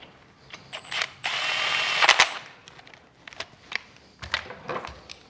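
A power tool whirs in short bursts while side bolts are tightened on an LS engine, with one longer high-pitched run and several brief buzzes separated by quieter gaps.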